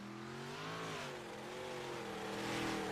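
Big block modified race car on a qualifying lap in iRacing, its engine droning steadily with a gently wavering pitch as it accelerates, loud and continuous with no voices.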